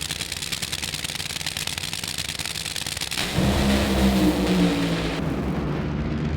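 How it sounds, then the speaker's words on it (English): An NHRA drag racer launches and accelerates down the track at the finals, a loud, sustained engine roar that jumps sharply in power partway through and holds a heavy rumble with crackling bursts. "Cruz Pedregon rockets his way to the top"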